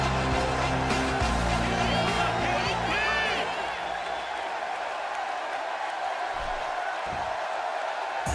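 Wrestling arena crowd roaring for Kurt Angle's entrance at WWE SmackDown Live, a dense, loud sustained wash of cheers and whoops with music-like tones, thinning slightly toward the end.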